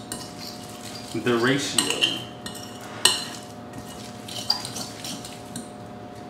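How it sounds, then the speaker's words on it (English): Guacamole with onion is mixed in a bowl, with a spoon scraping and clinking against the bowl in short irregular strokes and a few sharp knocks, close by, while someone speaks briefly. "Let's mix it and see."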